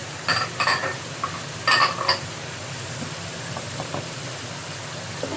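A spoon stirs peppers, onion, ginger and crushed red chilli in a pan for chicken biryani, giving close metallic scrapes and clinks in short bursts over a low sizzle.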